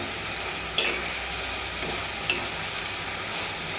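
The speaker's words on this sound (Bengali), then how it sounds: "ভালো করে মশলাটা চিংড়ির সাথে ভোনা ভোনা করে নিচ্ছি" Spice paste and prawns sautéing together in a pan for a prawn and bottle gourd curry, a constant soft sizzle with two sharp clinks of a spatula against the pan, no talking.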